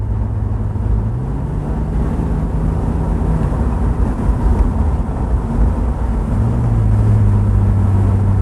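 BMW Z3 3.0i roadster cruising under gentle throttle on an open road in New Zealand, a steady low engine drone with a subtle rise in pitch partway through, mixed with road and wind rush, no talking.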